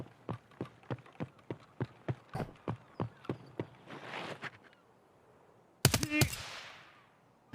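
Gunfire in the game Escape from Tarkov, a rapid string of evenly spaced sharp shots followed by a brief rush of noise, then after a pause a louder closer burst of impacts, no voices.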